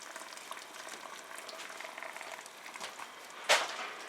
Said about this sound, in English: I've got the kettle ready.